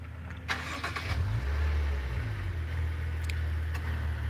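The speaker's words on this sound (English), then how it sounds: "when you tap the remote twice, it starts the car." A Maserati car engine starting via remote start, a cranking catch followed by a steady low idle rumble with a slight rev, heard close and alone with a couple of faint clicks.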